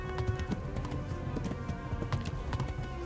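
Horse hooves gallop in a medieval video game, a fast, rhythmic clip-clop of repeated hoofbeats running steadily throughout at moderate loudness, with no talking over it.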